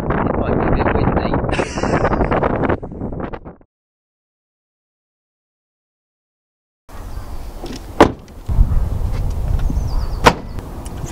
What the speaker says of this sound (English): It might be a bit windy.